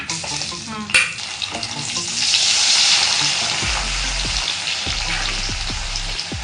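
Ingredients for spicy puffed rice chivda frying in hot oil, a steady bright sizzle that swells after a sharp knock, with occasional low thumps of stirring against the pan.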